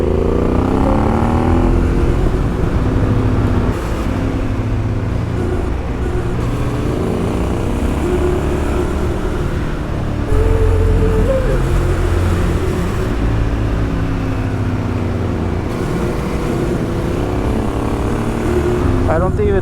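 A motorcycle ridden through a forest rumbles continuously, a loud, close engine drone with shifting revs and wind noise that runs the whole length.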